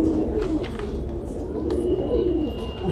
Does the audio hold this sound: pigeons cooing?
yes